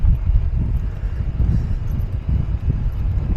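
Steady, heavy wind roars and buffets the microphone throughout on a farm in Kumamoto, Japan, a constant low rumble with no pauses.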